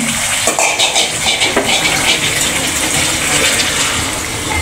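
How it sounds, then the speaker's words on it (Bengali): Water poured into a pan of fried chital fish for curry gravy, a continuous splashing, gushing pour that stays steady and close for several seconds. "এখন ঝোলের পানি দিয়ে দিল"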